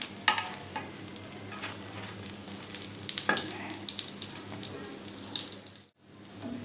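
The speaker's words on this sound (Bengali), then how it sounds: "এটাকে একটু সময় নিয়ে ভাজতে হবে যাতে ভিতরের মাছগুলো ভালোভাবে হয়ে যায়।" Foli fish kofta frying in hot oil, a steady close sizzle with scattered pops and crackles running throughout, briefly cutting out near the end before resuming.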